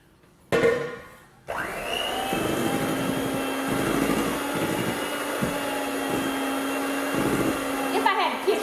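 An electric mixer beats pound cake batter with heavy whipping cream and flour mixture, giving a steady, loud motor whir with a sustained tone after a short rattling start, running continuously to the end.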